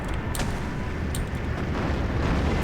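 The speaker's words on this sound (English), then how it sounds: "big explosions there." Dense, rumbling bomb explosions in Steel Division 2 roll on continuously, with a few sharp higher cracks near the start, loud and close, filling the whole stretch without a break.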